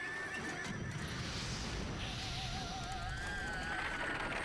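A horse whinnies in a wavering neigh in the video game Parasite Eve (1998), faint and somewhat distant, over a low ambient background with soft hoof-like clatter.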